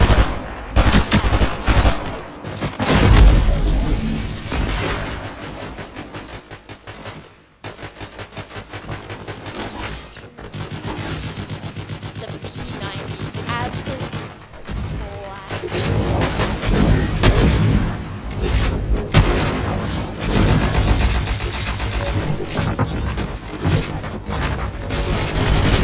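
Modular Thunderburst SMG firing in a video game, loud rapid bursts of automatic gunfire with heavy booms, broken by short pauses between volleys, continuous and close.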